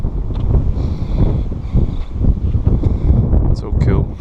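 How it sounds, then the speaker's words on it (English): Breezy wind buffets an outdoor farmyard beside a combine harvester header, a loud continuous rumbling gust noise close to the microphone throughout. "Bit of a breezy day today."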